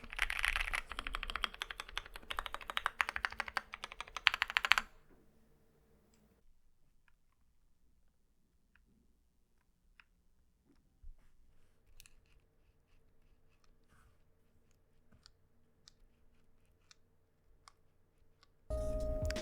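Typing clatters fast and busy on an Akko ACR Pro Alice Plus mechanical keyboard for several seconds, then falls to a long, near-silent stretch of faint scattered clicks before a loud burst returns at the very end.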